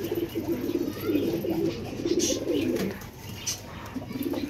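Pigeons coo in low, repeated rolling phrases close by, with faint chirps and light outdoor background noise.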